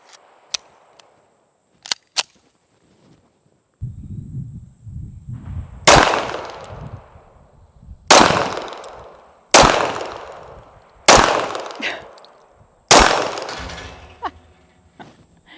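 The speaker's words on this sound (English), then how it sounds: "There's nothing that beats the sound of hitting that steel." Pistol shots from a CZ A01-LD striking steel targets: a few faint early pops, then five loud, evenly spaced cracks, each ringing off the steel with a metallic clang that decays between shots, over quiet background.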